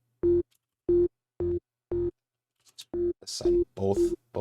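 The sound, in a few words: Serum synth stab with phaser filter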